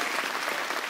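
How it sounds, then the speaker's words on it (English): Church congregation clapping together, a dense, steady burst of applause filling the room for about a second. "Someone clap like you got a fresh start."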